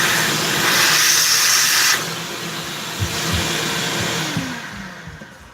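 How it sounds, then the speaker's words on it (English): A shop vac runs loudly nearby with a broad rushing whoosh for about two seconds, then drops to a lower hum as it winds down, with a few thumps and clunks from a workshop. "It's nice having a shop vac."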